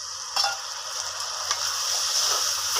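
Mutton masala with turmeric, salt and a splash of water sizzles and bubbles steadily in a pan while being stirred, a close, continuous frying hiss with a couple of brief scraping clatters.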